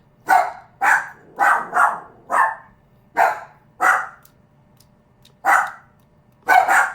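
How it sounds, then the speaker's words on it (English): Several dogs indoors bark repeatedly and loudly, about ten sharp barks in quick clusters with brief pauses between, close by and with no talking. "hopefully my dogs will stop barking"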